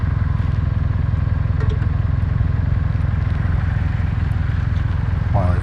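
A Kawasaki W800 motorcycle idles while parked, its engine throbbing in a steady, loud, even rumble from close by throughout, with no talking over it.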